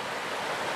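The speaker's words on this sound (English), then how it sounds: "Nice little waterfall there" A small beaver-made waterfall on a river gives a steady, close, rushing white-noise wash of falling water, constant for the whole short stretch with no voices.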